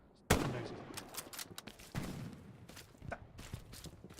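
Gunfire in an online video game match, with a sharp loud shot followed by a scattered series of closer and farther shots and thuds, some rapid bursts, under a continuous noisy background.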